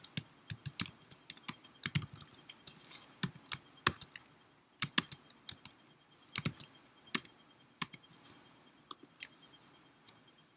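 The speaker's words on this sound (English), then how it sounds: "I typed some keyboard shortcut that." Rapid, uneven keystrokes on a computer keyboard, clicking in quick bursts with short pauses between them, close and fairly quiet, with no one speaking.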